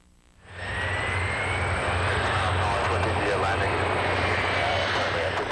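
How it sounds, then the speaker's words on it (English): A Magna International jet touches down at Buttonville Airport, its engine roar swelling in quickly and then holding as a loud, steady broadband rush with a faint whine and low rumble. "The Magna International jet carrying Bill Clinton touched down at Buttonville Airport"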